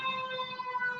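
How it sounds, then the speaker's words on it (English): Sirens from outside come through a window as a steady, moderately loud tone that holds on without talk. "We're going to have the sirens through the window."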